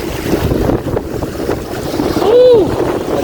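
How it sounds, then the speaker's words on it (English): Strong wind buffets the microphone on a lake during bottom fishing from a boat, a constant blustery roar with water lapping underneath. "It is really hard to fish on the bottom in this wind."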